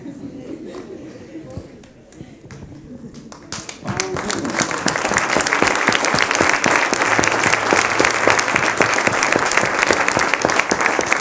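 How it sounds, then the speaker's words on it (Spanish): A church congregation applauds during a Spanish-language sermon: after a few seconds of quieter voices and sound, loud crowd clapping swells in and continues densely, with voices talking over it. "Un aplauso a él, hermano."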